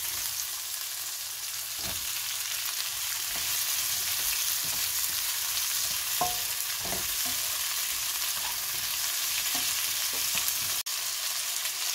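Chicken with cherry tomatoes fries in a stir fry pan, giving a constant loud sizzle with occasional spatula knocks and stirring scrapes, close up and without speech.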